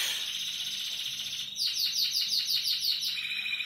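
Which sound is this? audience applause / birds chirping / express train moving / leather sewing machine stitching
birds chirping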